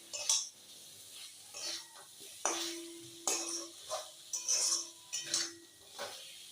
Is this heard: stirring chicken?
yes